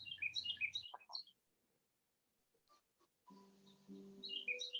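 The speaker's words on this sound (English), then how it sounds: "I think I can hear some birds chirping at the back." Bright bird chirps and tweets outdoors, a burst at the start and again at the end, with a quiet pause and faint low hum between.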